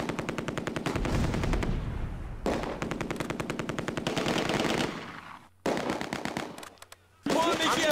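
Machine gun fire in the WWII strategy game Close Combat, at the Arnhem rail bridge during Operation Market Garden, with several sustained bursts of rapid, evenly spaced shots broken by short gaps.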